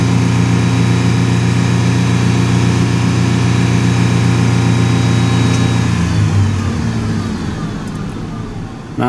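A 2002 Ford F-150 4.2L pickup engine with a vacuum leak idles steadily and loudly with a deep, even hum that holds constant, then drops slightly in pitch and level near the end.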